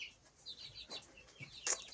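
Newly hatched chicks peep inside an incubator, giving thin, high, scattered chirps in short bursts over a quiet background, with one sharper cheep near the end.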